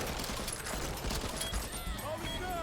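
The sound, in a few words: bots shooting nests in Back 4 Blood video game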